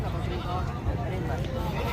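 Goats bleat amid a crowded livestock market (mandi) in Rajanpur, with large bucks on sale; constant crowd noise and close talk run throughout the two seconds.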